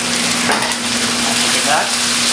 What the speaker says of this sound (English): You have to saute the tomato paste also a little bit